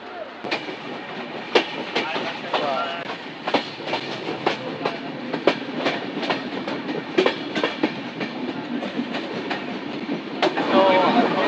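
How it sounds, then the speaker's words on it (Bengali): A passenger train pulls out of Adimganj station and runs along the rails, heard from on board: a steady rumble under a brisk, irregular clickety-clack of wheels over rail joints, close and fairly loud. "আমাদের ট্রেনটি ছেড়ে দিয়েছে তো আমরা এখন আদিমগঞ্জ ছেড়ে চলে যাচ্ছি"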